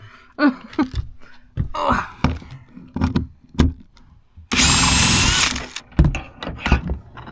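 A power drill whirs in one steady burst of about a second during a tour bus conversion build, amid clattering, knocks and bits of nearby talk.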